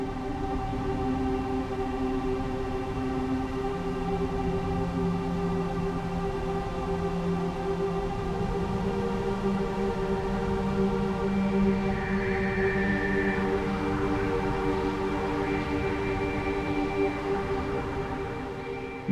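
Layered synth texture from Native Instruments Massive for a sci-fi drama cue, a dense static drone of sustained tones over low ambience, steady and evolving slowly, with a brighter tonal layer rising briefly in the middle.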